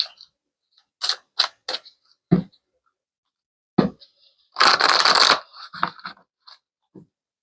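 Tarot cards shuffled and drawn by hand, with a handful of brief crisp flicks and snaps followed by a longer dense riffling burst and a few soft taps, close and clear with no talking.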